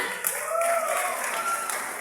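Applause and scattered clapping from a pageant audience, a continuous wash of noise at a steady level.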